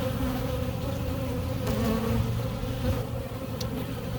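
Honeybees buzz steadily and loudly around a hive box during a queen installation, a close, dense drone that continues without a break.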